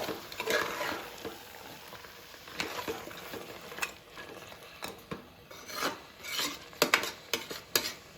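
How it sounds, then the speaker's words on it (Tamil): Tomatoes being sautéed and stirred in a pan for mutton biryani, a soft frying hiss under repeated scraping strokes of a spoon that grow louder and more frequent toward the end. "தக்காளி சேர்த்து நல்லா வதக்கிக்கலாம்."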